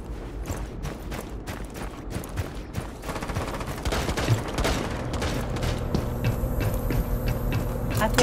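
Rapid gunfire in a snowy video game shootout, dense bursts of shots for the first few seconds, then steadier continuous firing over a low rumble.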